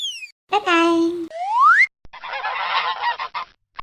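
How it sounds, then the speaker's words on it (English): A toy goose gives harsh, nasal honks, one long held call followed by a rising one, then a rougher burst, loud and close with short gaps between. "goose"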